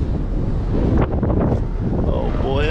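Strong wind buffets the microphone with loud, continuous low rumble and gusts at an outdoor dealer auto auction, while a voice talks briefly near the end.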